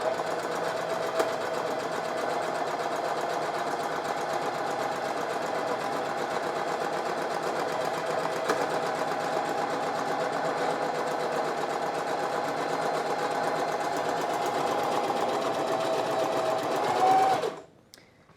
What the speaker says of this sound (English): now on this machine, it is as simple as putting my foot down and it's going to do everything for me